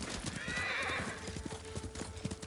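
A horse in the Ghost of Tsushima video game whinnies in a long, high neigh while its hooves keep up a steady galloping clip-clop beneath it.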